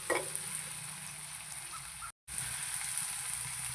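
Vegetables sizzle in a hot pan for masala Maggi noodles, a steady, close frying hiss with a brief dropout partway through and no voices.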